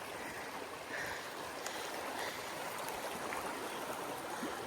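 A small branch of Firehole Creek in Yellowstone National Park rushes along a hiking trail, a steady, close, continuous wash of water with no voices.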